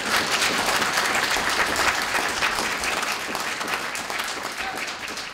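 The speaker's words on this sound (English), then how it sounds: "let's give her a round of applause before we get in" Sustained applause from a London lecture audience, dense and even, slowly tapering off toward the end.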